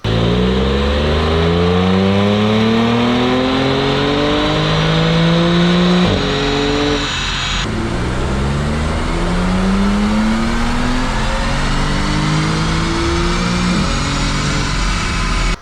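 Audi B8 S4 engine pulling hard on a dyno, revving up through repeated rising sweeps to 7,200 RPM shifts, each gear change cutting sharply before the next climb, loud and sustained with no talking.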